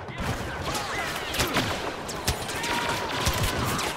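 Rapid bursts of blaster-style gunfire from Boba Fett's weapon in a video game crackle loudly and continuously, with sharper shots standing out among a dense rattle.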